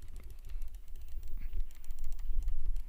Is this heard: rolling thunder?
no